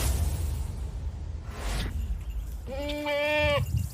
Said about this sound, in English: At this farm near King City live over 100 goats, all with a special purpose.